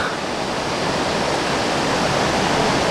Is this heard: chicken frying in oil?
no